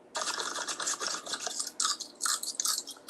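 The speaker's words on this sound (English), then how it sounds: "You hear that crunch?" Crispy rice paper pizza rolls filled with pepperoni and cheese give a run of close, dry crackling crunches, repeated in irregular bursts over about three seconds with no talking.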